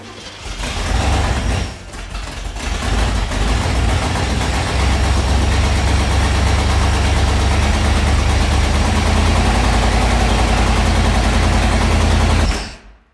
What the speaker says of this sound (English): hearing a new engine start up for the first time. Especially with those wide open headers